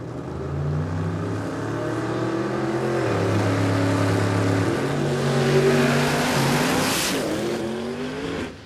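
Radial drag race car launching at a drag strip during a radial shootout qualifying run, a loud, close engine roar climbing through gear changes with stuttering pitch as the tyres lose grip, then fading away.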